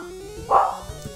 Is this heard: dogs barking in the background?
yes